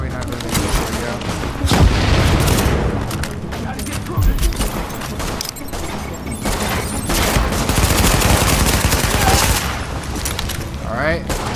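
Sustained gunfire from The Division, loud and continuous with dense overlapping bursts and booms throughout, a thick wall of shots and impacts with no pause.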